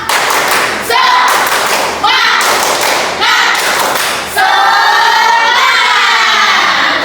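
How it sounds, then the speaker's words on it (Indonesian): A class of primary-school children doing a rhythmic spirit clap, loud bursts of patterned clapping together with shouted chanting, close and energetic, ending in cheering voices. "Pakai tepuk semangat, oke?"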